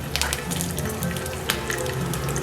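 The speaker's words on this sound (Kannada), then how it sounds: "ಈಗ ಎಣ್ಣೆ ಬಿಸಿಯಾಗಿದೆ, ಇದಕ್ಕೆ 10ರಿಂದ 15 ಬೆಳ್ಳುಳ್ಳಿ ಹಾಕ್ತಾ ಇದ್ದೀನಿ." Ten to fifteen garlic cloves frying in hot oil for Kerala-style chicken sukka, a close, continuous crackling sizzle with sharp little pops, no voices.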